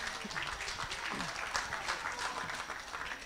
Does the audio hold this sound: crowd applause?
yes